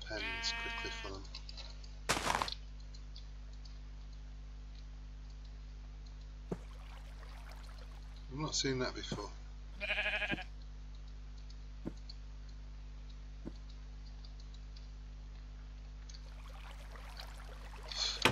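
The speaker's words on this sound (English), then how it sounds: "We have sheep, which is good." Sheep bleat in the video game Minecraft, a few short calls early on among scattered game clicks and ticks, fairly quiet, with someone briefly talking.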